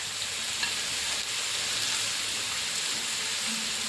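Shallots, green chillies and curry leaves sautéing in a pan, a steady close sizzle with soft stirring scrapes, continuous throughout and no talking.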